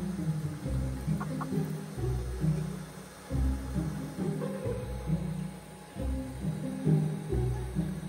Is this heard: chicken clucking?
yes